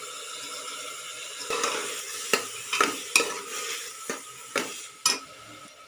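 Chana dal stirred in hot oil with asafoetida and dried chili, a soft sizzle broken by several sharp spatula scrapes and knocks against the pan.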